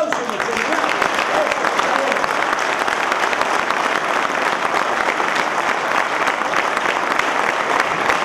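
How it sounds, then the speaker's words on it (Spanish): Steady, dense applause from the audience at a union federal council meeting, loud and sustained with no break throughout. "Nuestro aplauso y nuestro homenaje."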